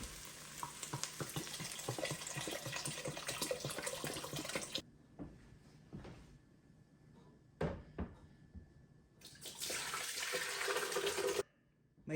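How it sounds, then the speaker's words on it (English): Water pours steadily into a pot of softened homemade vegetable stock with rosemary, a loud rushing stream that stops, gives way to a few clinks and knocks, then pours again before cutting off. "add water"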